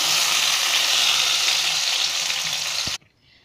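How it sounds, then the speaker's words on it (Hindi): Moong dal paste sizzling loudly in melted ghee in a nonstick pan, a steady close hiss that holds for about three seconds and then cuts off suddenly to near silence. "अब इसमें मूंग दाल का पेस्ट डाल लेंगे।"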